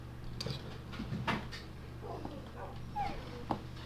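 Dogs in a dwarven fortress-building video game whimper and yip in short, faint bursts over a low steady hum, scattered across a few seconds.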